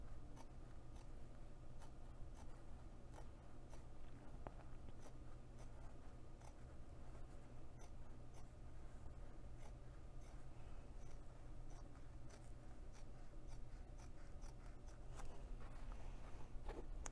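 Scissors cutting through foam interfacing for a sewn box pouch, a steady run of faint snips and scratchy cutting strokes over a low room hum, with no talking.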